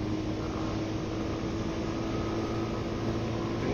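A Royal Enfield Hunter 350 motorcycle engine drones steadily up through its gears, a continuous loud hum with wind noise and no distinct shifts, heard from the rider's position.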